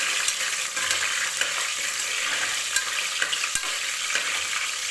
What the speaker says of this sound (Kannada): ಈಗ ನೆಕ್ಸ್ಟ್ ಹಸಿಮೆಣಸಿನಕಾಯಿ ಹಾಕ್ಬಿಟ್ಟು ಸ್ವಲ್ಪ ಫ್ರೈ ಮಾಡ್ಕೋಬೇಕು